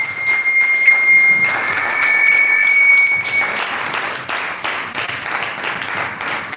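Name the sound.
audience round of applause and clapping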